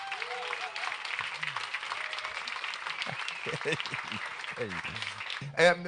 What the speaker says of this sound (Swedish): Roy Andernsson, en stor applåd till honom.